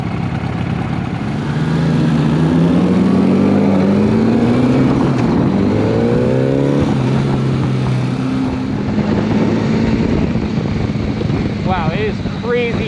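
A 1980 Honda Goldwing GL1100 accelerates on its first ride after a carburetor rebuild. The engine drone climbs in pitch through the gears under steady rushing wind noise.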